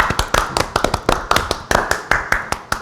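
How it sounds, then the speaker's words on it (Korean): Audience clapping for a publishing company president being introduced at a Korean talk event, a brisk run of sharp, close hand claps with no voices over them. "박수!"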